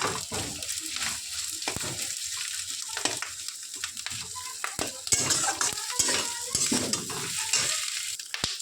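Beaten eggs being stir-fried in oil in a pan, with a soft continuous sizzle broken by repeated scraping and clinking strokes of a spatula stirring the pan, close and moderately quiet.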